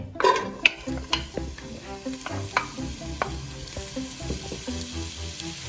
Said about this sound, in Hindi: तो अब जो है हम प्याज को फ्राई होने देंगे